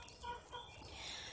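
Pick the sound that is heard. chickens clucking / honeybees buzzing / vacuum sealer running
chickens clucking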